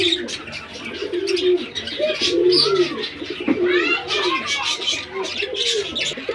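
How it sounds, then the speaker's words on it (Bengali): A pair of short-piece pigeons cooing close by at a pigeon seller's in soft repeated throaty calls, mixed with chirps and a person talking over them. "এখানে দেখতে পাচ্ছেন একজোড়া শর্ট পিস কবুতর"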